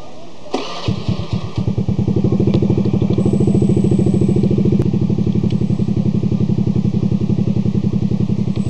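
A 2014 Honda BeAT 110 scooter cranks and catches, its small engine settling into a loud, rapid, even putter heard up close near the exhaust for several seconds, alone without talk.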